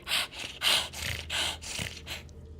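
A voice imitates a panicked kobold, snorting and wheezing in about six rhythmic, breathy bursts, close and fairly loud.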